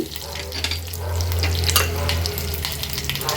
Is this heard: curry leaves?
yes